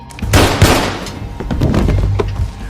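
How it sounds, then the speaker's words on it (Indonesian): Gunfire in an action film scene: a few sharp, loud broadband bangs and thuds burst out in close succession, followed by scattered smaller impacts over a rumbling movie soundtrack. "namun dengan cepat Allison berhasil menembaknya."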